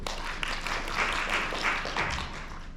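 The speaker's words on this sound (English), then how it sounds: "So a big round of applause for Mr." Audience applause at a Hanoi conference talk, a steady wash of many hands clapping in a large room, moderately quiet and continuous, with a few louder swells, without speech over it.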